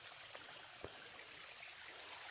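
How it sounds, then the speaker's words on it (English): A small stream runs beside a hiking trail on the Blue Ridge, a faint, steady trickle and burble of water close by, with no voices. "Yay, a real water source."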